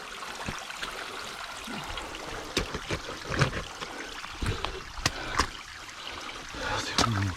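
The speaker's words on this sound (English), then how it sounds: "Waterfall coming down this stream." A forest stream trickles and gurgles down toward a small waterfall near a cave, a steady close wash of water with occasional splashes and footstep-like knocks on slippery ground.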